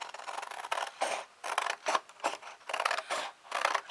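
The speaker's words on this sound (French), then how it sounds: "et je vais découper" Scissors snip through a folded paper Christmas card decorated with peel-off stickers, a series of close, crisp cutting strokes in an uneven rhythm with brief pauses between cuts.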